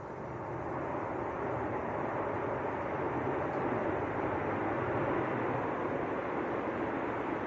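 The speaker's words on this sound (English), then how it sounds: "Ryanair just touched down." A Ryanair airliner lands at Manchester Airport, heard from a distance as a steady, broad, moderately faint roar that holds level with no talk over it.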